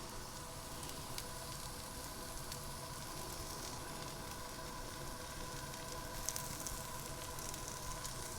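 Dosa batter topped with cheddar cheese sizzles steadily in a hot pan, a continuous close crackling hiss with no talking.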